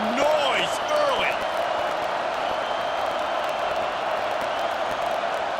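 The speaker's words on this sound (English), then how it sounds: "This crowd bringing the energy and noise early." Stadium crowd in the College Football 25 video game during Tennessee vs Oklahoma, a steady roar of cheering noise with a few whistles early on, while commentary plays over it.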